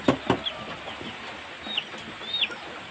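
A recovered chicken clucks in short, fairly close calls, mixed with a few sharp higher chirps and light knocks over a steady background hiss, with no talking.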